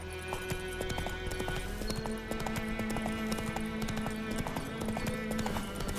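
Roach, the horse in The Witcher 3, gallops with a steady, fast clip-clop of hooves, loud and close, under a continuous musical and ambient game backdrop.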